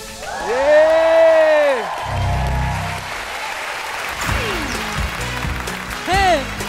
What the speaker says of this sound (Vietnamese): mọi người cùng vỗ tay mình ạ